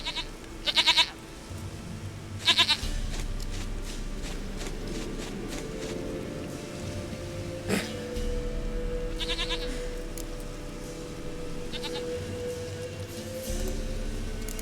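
Goat in The Witcher 3 bleating in a few short wavering cries near the start, then softer bleats later over a low ambient game soundtrack.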